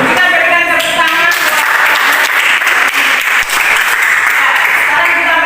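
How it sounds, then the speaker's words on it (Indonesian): A classroom of students in a Christian religious education lesson breaks into loud, continuous applause, with voices calling out and talking over the clapping throughout. "Kita berikan tepuk tangan."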